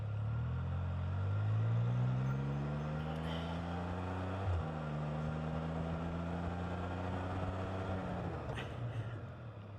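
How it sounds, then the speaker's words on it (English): Engine hum with falling pitch as a vehicle slows from about 30 miles an hour under hard braking, a brief jolt midway, then steady lower harmonics fading; no talk. "So when I get up to 30 miles an hour, it's amazing how fast you can stop."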